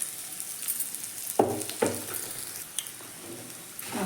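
Raw banana pieces sizzle in an oily pan with masala powder, a steady frying hiss broken by a couple of sharper bursts as the pieces are stirred or added.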